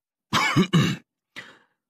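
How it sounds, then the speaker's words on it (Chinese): An emperor coughing: two quick, close harsh coughs followed by a softer single cough after a short pause, heard alone. "皇上在一旁咳嗽了一声"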